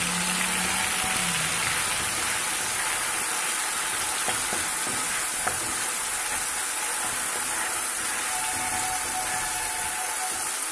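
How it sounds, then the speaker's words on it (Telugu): A paste of ginger, garlic, onion, coriander, cumin and coriander seed fries in oil, giving a constant hissing sizzle with faint occasional stirring, no voices. "ఇలాగ ఒక 2 నిమిషాలు వేయించుకుందాం"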